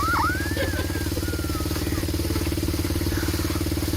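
A homemade helicopter's engine revving hard, a loud steady rapid mechanical clatter up close, running alone without talk.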